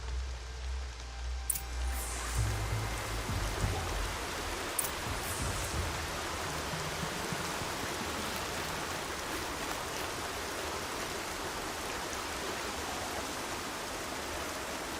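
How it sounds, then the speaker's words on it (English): Steady rainfall in the video game Horizon Zero Dawn, a dense even hiss of falling rain lasting throughout, soft and moderately distant, with a brief low rumble and a couple of clicks at the start and no talking. "More rain. My boots will get damp."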